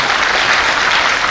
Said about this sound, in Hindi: एक जोरदार ताली मेरी लवली टीम के लिए